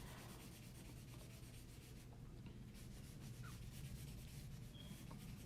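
Soft, steady rubbing of pencil graphite being blended across paper for a drawing of an eye, close and quiet, continuous with no talking.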